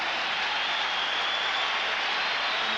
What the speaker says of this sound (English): Listen to the crowd support for Boston Celtics.